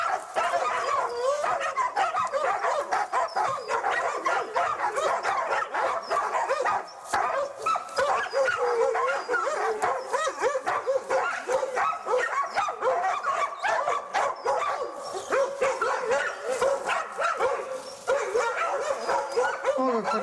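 A pack of hunting dogs chasing a sable through snow, barking and yelping continuously and excitedly, with overlapping voices at moderate distance and a few brief gaps.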